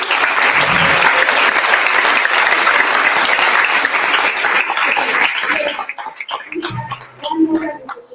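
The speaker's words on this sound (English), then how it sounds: "A round of applause for doctors." Conference audience applauding the doctors, a dense, loud wash of clapping that carries on steadily, then thins out into a few scattered claps and a soft voice before fading.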